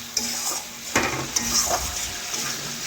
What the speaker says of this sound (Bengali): এখন আলু ও মশলার সাথে আবারও একটু রান্না করে নিচ্ছি।